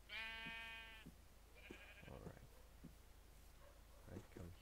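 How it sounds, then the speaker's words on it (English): Sheep in the Minecraft video game give a loud, strident bleat at the start, then a second shorter bleat follows, with faint clicks and scattered game noises between them. "Man, there's a lot of sheep in here"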